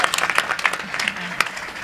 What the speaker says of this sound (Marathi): जरा टाळी वाजवा त्यांच्यासाठी।